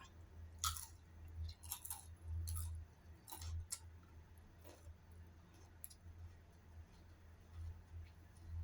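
Someone chews young winged beans near the microphone, giving quiet crisp crunches and bites in irregular bursts against a low background hum.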